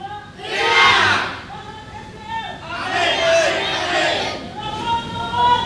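Supporters of candidate number 3 at a regency head election debate in Kolaka shout a slogan together in loud bursts, a crowd of voices rising and falling in waves.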